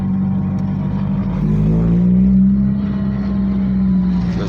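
A car engine idles with a deep, steady rumble, rising slightly in pitch as it revs, close and loud throughout.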